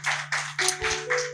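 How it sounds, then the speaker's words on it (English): A church congregation at a Sunday English live service claps in a steady series of bursts, moderately loud, with a low organ or keyboard tone humming underneath. "can we clap for them wherever you are?"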